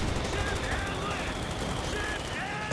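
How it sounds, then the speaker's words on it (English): Wehrmacht mortar fire in a Company of Heroes 2 match: a dense, loud, continuous battle din of gunfire and blasts, steady throughout with a burst at the end. "It's definitely a Wehrmacht mortar."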